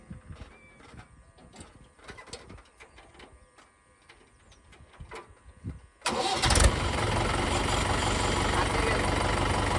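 A Rhino tractor's engine, tested in high fourth gear, starts after some quiet clicking and handling noises, then settles into a loud, steady running drone.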